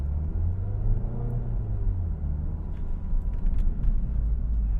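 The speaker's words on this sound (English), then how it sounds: "now from a stop here, we will do a little acceleration." A 2017 Ford Focus SE pulls away from a stop. A low engine rumble rises gradually in pitch while the car picks up speed, with a steady hum of road noise underneath and no voices.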